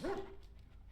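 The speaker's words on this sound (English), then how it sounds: "Aw, it's the puppies." A single short dog bark or yelp from puppies in the video game Dragon Age Origins, one quick rising-falling cry followed by quiet room tone, heard alone.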